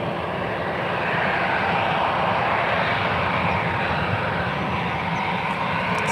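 Jet airliners landing back to back at San Francisco International Airport, a loud, steady broadband engine roar that swells slightly and holds close for the whole stretch, with no talk.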